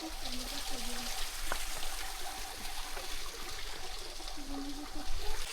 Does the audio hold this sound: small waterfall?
yes